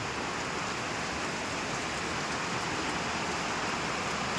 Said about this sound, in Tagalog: Dalawang araw ng umuulan dito